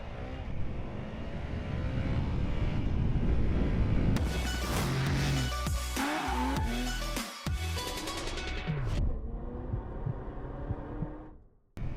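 A Honda Rebel 300 motorcycle being ridden, its engine droning steadily and smoothly, with rising and falling revs as it shifts through the gears and a sharp drop in sound near the end.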